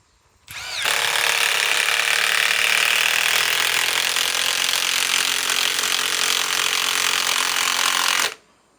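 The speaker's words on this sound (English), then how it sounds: "let's run these pain in the ass timber locks" A Milwaukee M12 Fuel driver running on a small 2 amp battery sinks a timber lock screw into wood in one loud, continuous high-pitched whir lasting about eight seconds before it abruptly stops.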